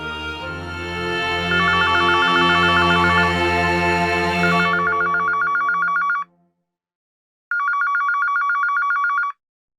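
A home landline telephone rings in rapid trilling bursts, first under swelling background music that cuts out, then alone after a short silence.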